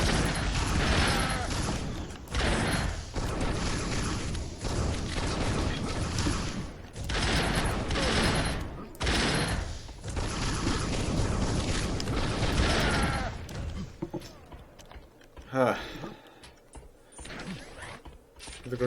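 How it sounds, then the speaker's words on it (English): Grenade launcher fire and explosions from the Unreal II video game during a botmatch, a dense, loud barrage of blasts and mechanical clatter that runs heavily for most of the stretch before thinning into scattered, quieter bursts near the end. "The grenade launcher."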